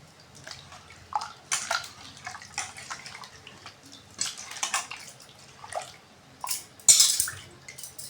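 Jaggery rasam with pounded garlic and coriander being mixed in a pot, giving irregular close clinks and wet splashy swirls in short bursts, with a sharper scrape near the end.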